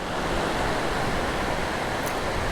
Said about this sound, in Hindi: ये फ़्लो चेक करें दरिया जेलम का। अच्छा खासा फ़्लो है इस वक्त, बहुत पानी आ रहा है